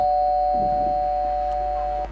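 A telephone dial tone hums steadily and loudly as a call is being placed, a continuous unbroken tone with faint handling noise beneath.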